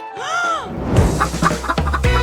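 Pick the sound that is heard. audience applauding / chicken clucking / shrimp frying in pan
chicken clucking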